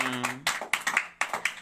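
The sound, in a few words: students clapping loudly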